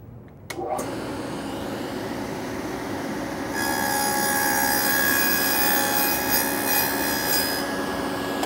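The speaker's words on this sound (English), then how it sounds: "I'm going to lower the blade, bring it over so that auxiliary fence just covers the outside chipper, and then cut into it." A table saw with a dado blade cuts a 3/8-inch-deep rabbet into wood against an auxiliary fence, a loud, steady whine and rasp that rises in pitch with a ringing tone partway through, close and without talk.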